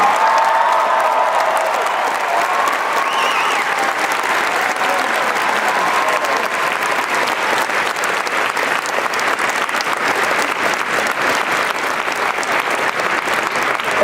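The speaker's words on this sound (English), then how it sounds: "Please give them a round of applause." Sustained applause from a convention audience greeting the Star Trek Continues cast at Phoenix Comicon 2013, a dense steady clatter of many hands with faint crowd noise, loud and continuous throughout with no talk over it.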